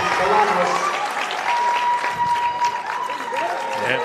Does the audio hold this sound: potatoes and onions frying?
no